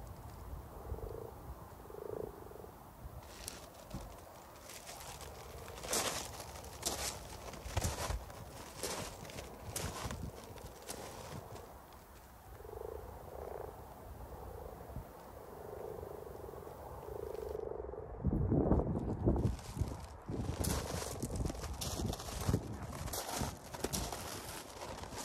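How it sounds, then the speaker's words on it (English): Male common toads (Bufo bufo) calling from a pond during spawning season, a chorus of soft, repeated croaks overlapping near and far, with some splashing and rustling nearby and a louder burst of activity toward the end. "Plenty more male common frogs waiting for female frogs to enter the pond"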